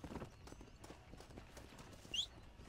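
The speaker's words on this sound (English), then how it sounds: "Come on, horsey." Quiet hoofbeats of a horse trotting in the Red Dead Redemption video game, a faint, steady clip-clop rhythm under low background game sound.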